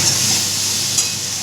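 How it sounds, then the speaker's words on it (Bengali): Chana cooks in a hot pan with a steady, close hiss of sizzling, and a brief stir or scrape is heard near the middle. "কর্তামশাই রান্না করছে।"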